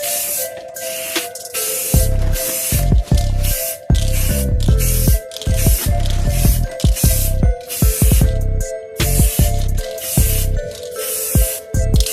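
Bursts of spray paint laying down a thin first coat of gloss black on BMW car parts after sanding, loud hissing passes broken by short pauses, close by with no talk.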